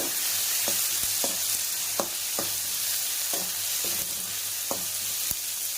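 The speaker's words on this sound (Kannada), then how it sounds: "ಈಗ ಒಂದು ಟೊಮೆಟೊನ ಸಣ್ಣ ಕಟ್ ಮಾಡಿ ಹಾಕ್ಕೊಂಡು ಅದನ್ನು ಕೂಡ ಚೆನ್ನಾಗಿ ಫ್ರೈ ಮಾಡ್ತೀನಿ" Chopped tomato fries with onions in hot oil, a steady close sizzle broken by sharp, regular clicks and scrapes of a spoon stirring the pan.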